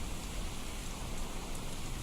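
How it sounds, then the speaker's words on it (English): Steady rain from a Skyrim weather mod in a video game, a dense, even hiss of drops on surfaces holding constant throughout with no breaks or thunder. "this sounds like rain, sounds like real rain, it sounds like rain"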